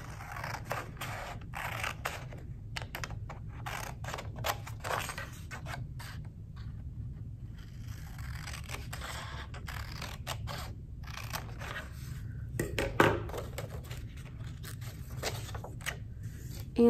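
Scissors cut out a paper triangle with a series of crisp, close snips and paper rustles, irregular in rhythm with short pauses between cuts, over a low steady room hum.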